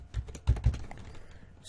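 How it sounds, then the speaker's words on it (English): Keys tapped on a computer keyboard while a web address is typed into a Windows Explorer address bar, a short quiet burst of a few soft clicks, close up and alone. "up here we're going to type in"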